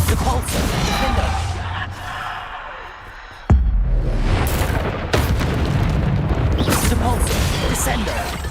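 Bombarda spell explosions in Hogwarts Legacy, heavy booming blasts and rumbling bursts in quick succession, one sudden loud impact midway, mixed with a voice shouting spell names throughout.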